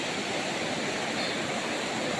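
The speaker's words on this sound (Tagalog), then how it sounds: "Lakas na ng baha." A flooded river surges past in a steady, dense roar of rushing water, loud and continuous throughout with no pauses or voices.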